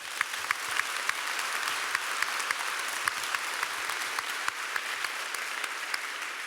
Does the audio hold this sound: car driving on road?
no